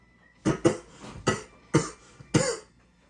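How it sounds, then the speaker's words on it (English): A person coughs five times in quick, uneven bursts, close and moderately loud, with short pauses between. "Now all of a sudden I feel like coughing again"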